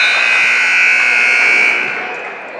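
A loud, steady electronic buzzer blares to end a quarter of a high school girls' basketball game in a gym, holding for about two seconds before fading.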